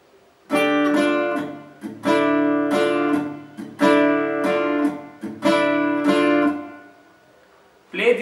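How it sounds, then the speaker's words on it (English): Electric guitar riff from a song, with groups of ringing chords alternating with short palm-muted stops in a repeating pattern, played close and loud with no voices. "So the whole pattern should slowly sound like this."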